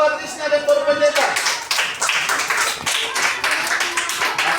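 Children in a primary school class clap their hands loudly, a dense burst of rapid claps that starts after a voice and continues with voices mixed in.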